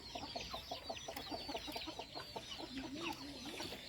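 Caged laying hens cluck and chatter in a family farmyard coop, a busy overlapping stream of calls and squawks, moderately close and fairly quiet.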